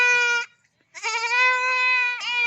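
Goats bleating loudly and close by, one long wavering bleat, a pause, then another sustained bleat running into a third.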